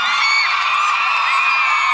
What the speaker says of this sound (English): Let's give a big round of applause and a thank you to Lauren